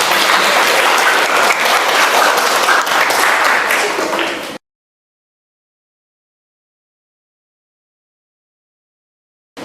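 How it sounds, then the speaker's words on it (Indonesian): Loud, dense applause from a group of teachers or students in a classroom coaching session, rising at once and holding steady for about four seconds before cutting to silence. "kita tepuk tangan sekali lagi"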